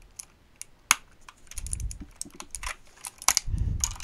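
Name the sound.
keycaps being pulled off a 60% mechanical keyboard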